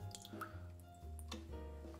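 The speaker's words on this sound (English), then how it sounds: "Now we'll just take the little bit of water off of the ice." Melted water drains off ice in a cocktail mixing glass, a few soft close drips and liquid trickles, quiet and alone.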